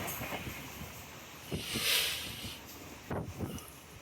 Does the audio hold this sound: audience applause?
no